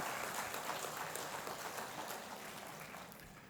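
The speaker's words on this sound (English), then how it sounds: "let us have a huge round of applause to acknowledge and celebrate the dedication and commitment of" Applause from the audience welcoming the incoming EMBA batch at an IIM Visakhapatnam inauguration, a soft, distant rustle of many hands clapping that slowly fades toward the end.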